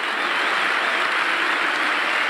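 A football stadium crowd at a Paraguayan league match gives a dense, continuous roar of applause for a player being substituted, steady and loud throughout with no single voice standing out.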